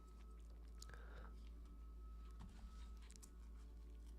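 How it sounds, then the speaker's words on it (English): Faint, gritty scraping and crunching of an HB pencil being sharpened, in short uneven bursts against a quiet background. "I'm going to sharpen this bad boy down."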